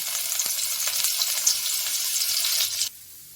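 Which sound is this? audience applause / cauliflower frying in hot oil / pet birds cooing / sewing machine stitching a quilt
cauliflower frying in hot oil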